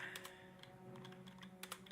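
A computer mouse clicks in quick, light taps during Dwarf Fortress play, faint and close, with a steady low hum underneath.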